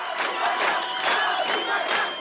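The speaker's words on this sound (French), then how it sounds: "Puis le nom de la victime est scandé par la foule." A large protest crowd chants a murder victim's name in rhythmic, repeated waves of loud massed voices, a steady pulse of shouting with no single speaker standing out.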